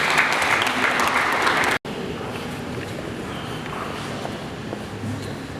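Audience applause at a Burundian wedding ceremony, a steady loud wash of clapping that cuts off abruptly, then resumes with a quieter, scattered patter as the crowd continues.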